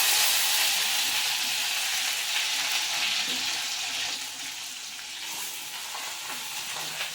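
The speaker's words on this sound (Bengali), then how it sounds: "রসুনটা একটু তেলে ভেজে নিতে হবে লাল লাল করে" Garlic frying in oil in a home kitchen while making garlic bread, a steady close hiss and sizzle that runs throughout and eases slightly toward the end.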